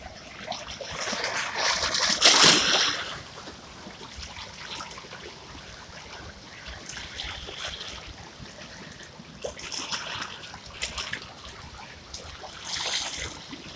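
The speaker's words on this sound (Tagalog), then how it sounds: "Malaking alon yan" Large sea waves break and wash ashore, heard from some distance. A loud surge builds and crashes early, then softer rushing and splashing follow in uneven swells.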